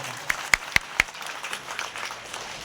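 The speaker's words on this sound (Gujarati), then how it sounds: "એકવાર જોરદાર તાલીના નાદ સાથે વધારો" A temple crowd at a devotional kirtan gathering breaks into brief applause for a donation, a few sharp claps standing out over a soft murmur of clapping that fades quickly.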